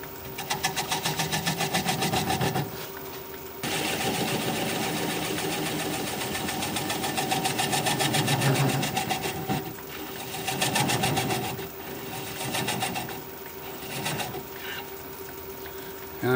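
A wood lathe spins as a 3/8 inch swept-back gouge turns a bowl at low speed, giving a steady machine whir with a sustained tone and rougher scraping surges that rise and fall, with no talking.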